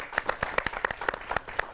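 Studio audience at a Hindi news special clapping briskly, with sharp distinct claps in a quick uneven rhythm, close and fairly loud, with no talking.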